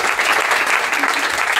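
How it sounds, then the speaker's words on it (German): Audience at a live stand-up comedy show applauding, a dense, loud burst of clapping filling the whole short moment with no pause. "Applaus für Kaspar und Alex, Mann."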